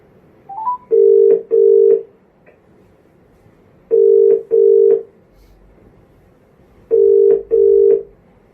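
Telephone call being placed: a short dial tone, then three evenly spaced pairs of loud ringback tones with pauses between, with no talk over it.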